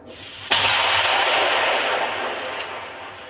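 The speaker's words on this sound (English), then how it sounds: "fighters assist with drones, mortars, and RPG strikes from behind the fields around." Mortar and RPG fire in combat, supporting fighters from behind surrounding fields, arrives as one sharp, loud blast followed by a long, noisy roar that slowly fades over a few seconds, with no voices.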